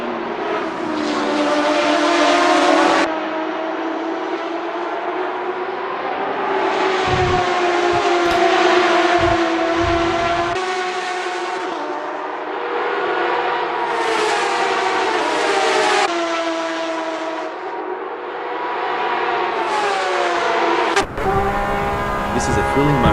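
Porsche 911 RSR race cars at Spa in a racing video game, a loud sustained engine whine rising and falling through gear changes, with a commentator speaking over it.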